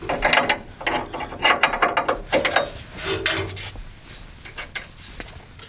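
A 3/4 inch wrench breaks loose jam nuts on Tick Performance travel limiters, giving close ratcheting clicks and metallic clunks in irregular bursts that thin out toward the end.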